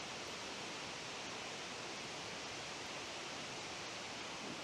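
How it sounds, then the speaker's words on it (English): Distant waterfall along a river during a June kayak trip makes a faint, steady broadband rush of falling water, continuous and even with no other sounds. "I'm pretty sure that's a waterfall."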